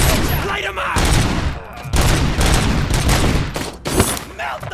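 Heavy gunfire in the Robocop: Rogue City video game, loud sustained bursts of automatic weapons with sharp cracks and brief pauses, mixed with faint shouting voices.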